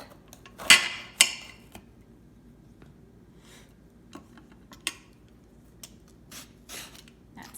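A knife cuts a gourd in half on a cutting board, giving two sharp knocks close together, then scattered faint taps and clicks in a quiet room. No one speaks.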